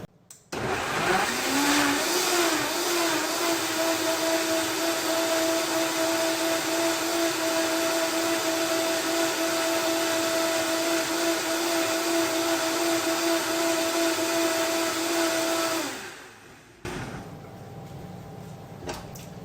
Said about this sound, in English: you're going to turn it on high and blend it until it's really smooth.